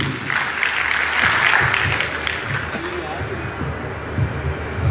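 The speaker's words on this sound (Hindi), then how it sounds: "आइए भगवत जी, जोरदार ताली में भगवत जी की" Applause at a political meeting welcoming a speaker to the stage, sustained clapping from a crowd with a swell near the middle and low room noise beneath.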